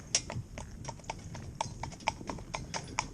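A cob pony walks on a firm surface, its hooves clip-clopping in a steady, evenly spaced rhythm, close and clear, with no talk over the footfalls.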